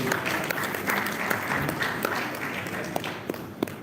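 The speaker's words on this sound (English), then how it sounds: "Another round of applause, please." Audience at a literary festival gives a round of applause, a steady wash of clapping with a few sharper individual claps standing out and some voices mixed in.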